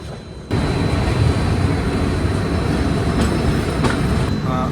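A passenger express train (Mumbai–Howrah Gitanjali Express) rumbles along at a steady, loud roar, wheels clattering on the rails after a brief quieter start.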